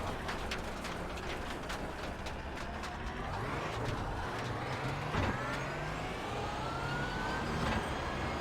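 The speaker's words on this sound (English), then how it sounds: "Oh, and there goes Porsche." A Porsche race car in a racing video game sweeps past with a rising then falling engine pitch, in a steady roar of engine and tyre noise with no voices.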